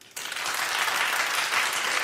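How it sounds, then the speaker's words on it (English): Crowd applause erupts suddenly after a brief quiet moment and carries on steadily, a dense wash of many hands clapping for about two seconds. "All right, clap if you think she should suffer."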